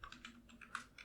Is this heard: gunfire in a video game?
no